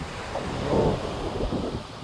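Sea waves wash against the shore at a fishing spot, a rough, continuous surge of water with wind rumbling across the microphone and no speech.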